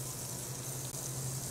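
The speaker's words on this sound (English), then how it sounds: "Now, butter goes in the pan." Butter melting in a pan as the first step of a bechamel sauce gives off a steady, soft, even sizzle that carries on without a break, with no talking.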